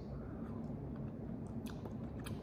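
Sapodilla fruit bitten and chewed up close, moist squishy mastication with a few soft crunchy bites over a low room hum, no talking.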